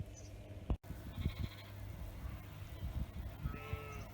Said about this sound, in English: all the sheep have come to say hello, literally right next to our back door.